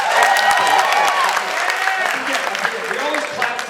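Comedy-show audience applauding a recovery milestone, a dense steady wash of clapping with some crowd noise mixed in, fairly loud and sustained throughout.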